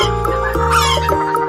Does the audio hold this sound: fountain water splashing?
no